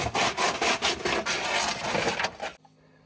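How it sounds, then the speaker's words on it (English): Sandpaper scrubbing a Studor air admittance plumbing vent part, with rapid, loud back-and-forth rasping strokes in an even rhythm that stop abruptly near the end. "Sandpaper to clean."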